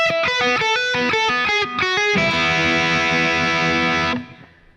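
An overdriven electric guitar picks a fast lead pattern of short notes from a song, then lands on a long sustained chord that rings out and fades away.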